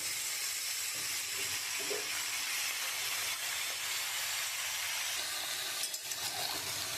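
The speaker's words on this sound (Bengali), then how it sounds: "আমার কেটে রাখা পুঁই শাকগুলো দিয়ে দেবো" Chopped Malabar spinach tossed into a hot pan with salt and turmeric, a steady, fairly quiet hissing sizzle with faint stirring sounds throughout.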